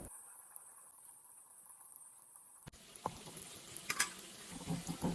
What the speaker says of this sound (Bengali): এবার কোপ্তাগুলি একে একে ভেজে নেব